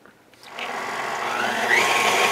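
A blender mixes soy chocolate mousse, its motor starting after a brief quiet moment and then running as a steady, close, loud whir that rises slightly in pitch toward the end.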